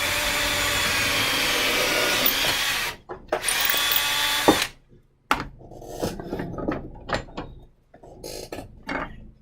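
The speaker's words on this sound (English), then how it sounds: "So when I drill my hole, I can just put it in there." A power drill bores a hole sized for a bamboo skewer joint, whining loudly and steadily for about three seconds, then a shorter burst, followed by clicks and handling noises as the tool stops.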